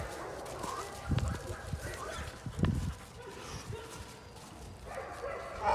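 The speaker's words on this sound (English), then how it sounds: "You get a bark." A young dog in field training gives a couple of short barks or yips outdoors, brief loud bursts with quieter rustling and faint talk between them.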